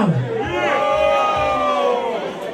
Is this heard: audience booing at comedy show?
yes